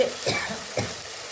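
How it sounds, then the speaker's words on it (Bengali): Chillies being sautéed and stirred in a pan for a taro and snakehead fish curry, a soft sizzle with a few quick scraping stirs, close and alone. "এবার আমি লঙ্কাটা দিয়ে একটু কষে নিলাম"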